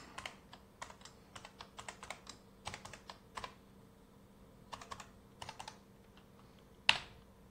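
Password keys tapped on a computer keyboard, bursts of quick clicks in uneven runs with short pauses, close and fairly quiet, ending in one sharper louder clack.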